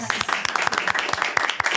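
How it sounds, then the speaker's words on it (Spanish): Brief burst of applause from a small studio audience after a panel discussion on mothers in education, quick overlapping claps at close range, fairly moderate in level. "Aplausos para todos"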